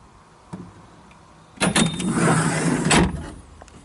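The cab door of a 2019 Kubota SSV65 rubber-tire skid steer loader swings shut with a brief mechanical whir and a solid latch, close and loud, followed by a short rattle.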